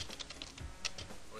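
Quick, light keystrokes tap on a computer keyboard in a short burst, close and fairly soft, with brief pauses between a few clustered presses.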